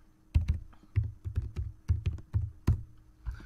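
Close computer keyboard typing, about a dozen quick, uneven key taps in bursts with brief gaps, quiet and alone.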